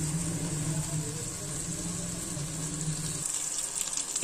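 Pedas melt and sizzle in a pot over a high flame while being cooked into desi ghee. A steady, close frying hiss continues throughout, with a low background hum that drops away near the end.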